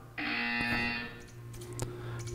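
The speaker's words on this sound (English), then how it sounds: "You will hear a buzzer." A loud, harsh buzzer blares for about a second in a game review, a steady electronic drone that then fades into a lower lingering hum with a few faint clicks.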